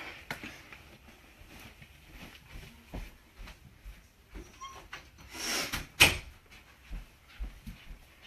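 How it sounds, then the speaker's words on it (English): A bedroom door is shut indoors, heard as a few soft handling knocks and shuffles, then a louder close thud near the end, nearby and without speech. "I'm gonna shut my door."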